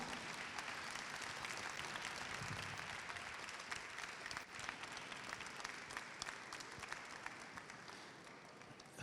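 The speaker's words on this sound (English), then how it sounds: "Ladies and gentlemen, a big round of applause," Sustained audience applause for author Ruby Lal at a book conversation: a steady, dense patter of many hands, fairly quiet and even, tapering slightly near the end.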